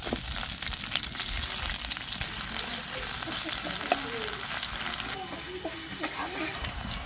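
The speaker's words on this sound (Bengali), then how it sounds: "পেঁয়াজ মরিচটা সুন্দর করে ভাজা নিচ্ছি" Onions and chilies frying in white vegetable oil make a continuous, close crackling sizzle, broken by frequent light spatula clinks and stirring scrapes.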